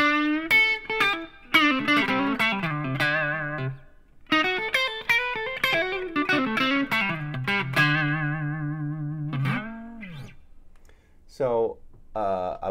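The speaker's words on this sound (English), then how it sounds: "Pushing up the expression pedal, we get our lead boost." An electric guitar plays a distorted lead line through an effects setup, an expression pedal pushed up for a lead boost with reverb, bending sustained notes and quick runs that ring out loud and close.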